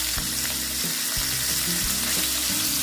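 A pomfret fish sizzles in hot salted oil in a wok, giving a loud, close, continuous frying hiss over a low rumbling hum, with no speech.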